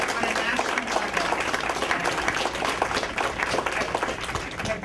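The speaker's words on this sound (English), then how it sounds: "I think we should give the family group a big round of applause" Sustained applause from an indoor audience at a family day event, a steady dense wash of clapping hands throughout with some crowd noise mixed in.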